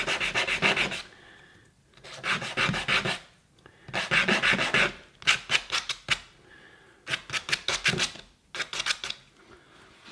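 Sandpaper rubbing back and forth along the edges of a wooden mallet piece, a close, raspy scraping in rhythmic strokes with brief pauses between sets.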